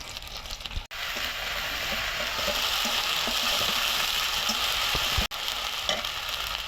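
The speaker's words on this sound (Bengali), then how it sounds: "পেঁয়াজ আদা রসুনটা আমি হালকা পানি দিয়ে ভালো করে কষাই নিলাম" Onion, ginger and garlic paste fries in oil in a pan, a steady dense sizzle close by with occasional stirring scrapes and two sudden brief dropouts.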